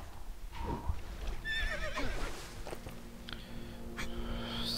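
A horse in the LEGO Lord of the Rings video game lets out a high, wavering whinny, followed by light clip-clop hoofbeats. It sounds moderately faint over a quiet game background, with no talking.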